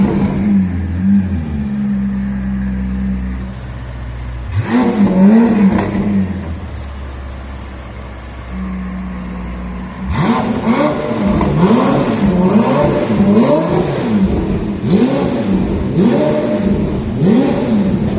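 Ferrari F8 Tributo fitted with a newly installed exhaust system revving hard and close, with a sustained idle drone, a sharp blip around the middle, then a long run of repeated rising and falling throttle revs.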